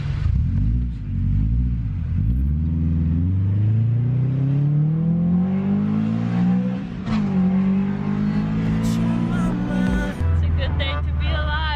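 A car revs and accelerates from a standstill at a green light, its engine note climbing steadily through gears, loud and close throughout.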